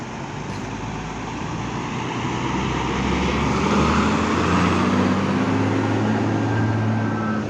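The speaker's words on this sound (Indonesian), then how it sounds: "Sebentar kita ada bis lewat dulu." A bus rolls past at Purabaya Bungurasih bus terminal in Surabaya, its engine hum and rising whine growing louder, with steady traffic noise underneath.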